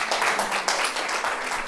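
Third-year students of an art high school in a classroom burst into applause, a dense wash of many hands clapping steadily throughout, fairly loud and close.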